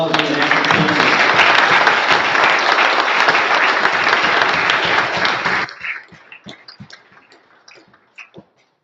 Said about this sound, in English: let's give him a round of applause for the national team